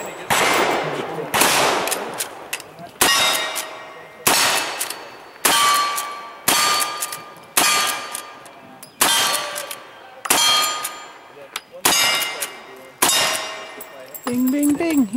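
Rifle rounds strike steel targets at a cowboy action shooting match, a steady series of about ten loud, ringing metallic clangs, each decaying before the next, close by with no speech.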